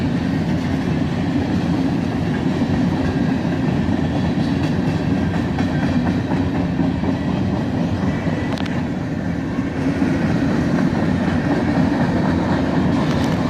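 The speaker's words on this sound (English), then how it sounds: "This entire train was all covered hoppers." A long freight train made up entirely of covered hoppers rolls past a crossing, giving a loud, steady rumble with a rhythmic clickety-clack of wheels on the rails, close by and uninterrupted, with no talk.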